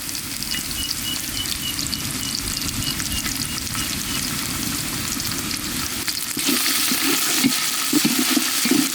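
Onion and green chili sautéing in a pan make a dense, continuous sizzle with stirring, growing louder and brighter near the end as the ingredients are moved, close and without speech.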